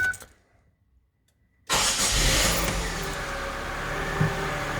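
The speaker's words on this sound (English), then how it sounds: "Car is start and running and everything fine." A Holden Barina engine, just fitted with a new fuel pump, cranks briefly after near silence and catches, settling into a steady, loud idle close by with no talk.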